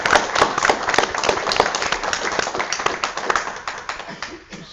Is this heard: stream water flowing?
no